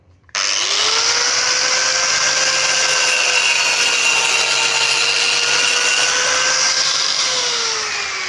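An angle grinder cuts a paving block, starting abruptly into a loud, steady, high-pitched whine and grinding rasp that holds evenly for about eight seconds, close and alone with no talk.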